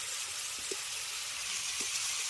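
Spice paste with tomato sautéing in a pan for a crab and potato curry, a steady soft sizzle with a few faint stirring taps, close and continuous with no talking.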